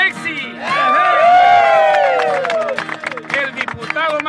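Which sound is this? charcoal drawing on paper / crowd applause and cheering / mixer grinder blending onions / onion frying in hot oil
crowd applause and cheering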